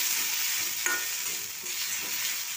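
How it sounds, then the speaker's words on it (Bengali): Spice masala for a rui fish curry frying and being stirred in oil, giving a continuous quiet sizzle with occasional spatula scrapes. "দিয়ে মশলাটাকে আমি সুন্দরভাবে কষিয়ে নেব যতক্ষণ না মশলা থেকে তেল ছাড়ছে"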